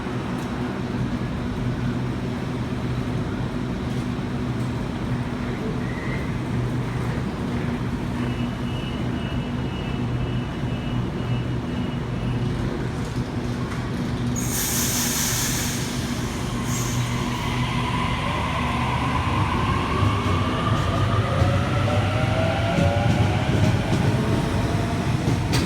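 Sydney Trains Waratah electric train arriving at Domestic Airport underground station, a continuous rumbling roar with motor whine and a brief high squeal, the pitch sliding as the train slows.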